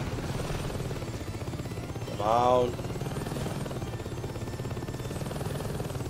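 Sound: helicopter in a video game

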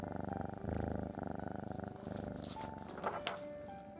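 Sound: cat purring

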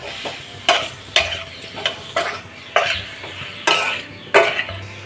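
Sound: spices and masala being sautéed in a pan

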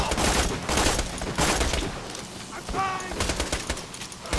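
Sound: gunfire in the video game Borderlands 2

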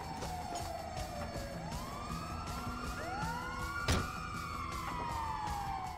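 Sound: ambulance siren in a video game

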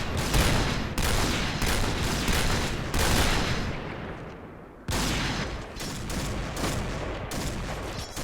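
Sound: DSR-1 sniper rifle gunfire in video game Point Blank

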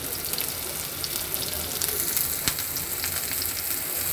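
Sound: garlic sizzling in white cooking oil

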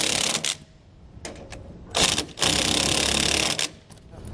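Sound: tightening and torquing U-bolt nuts on leaf springs

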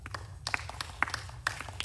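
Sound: audience applause

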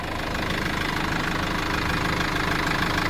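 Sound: Renault Master 2016 van diesel engine running

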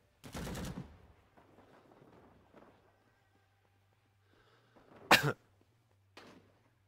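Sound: shotgun firing in the video game Rising Storm 2

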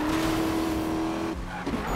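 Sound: car skidding in video game Need for Speed

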